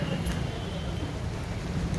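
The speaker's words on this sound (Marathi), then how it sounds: "पाऊस जास्तच वाढायला लागला" Heavy rain pours down at a Ganpati festival outing in Chinchpokli, Mumbai, a dense, steady roar of drops that stays loud and unbroken throughout.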